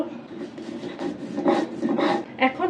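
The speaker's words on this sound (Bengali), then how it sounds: "আগে রসুনটা বাঁধব এখন কালি জিরাটা বাঁধব" Garlic and black cumin are ground by hand for a mashed taro dish, producing rhythmic, gritty rubbing and scraping strokes up close, repeating steadily.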